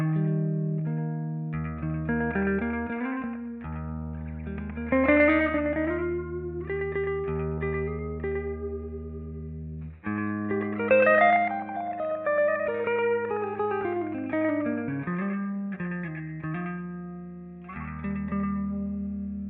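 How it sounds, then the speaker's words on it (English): Guitar through the Soundtoys Full Telephone lo-fi effect, a thin, boxy, narrow-band tone playing a steady melodic line over low held notes, continuous and moderately loud with no voices. "in this case I guess it's meant to sound like it's through a telephone, like a lo-fi kind of"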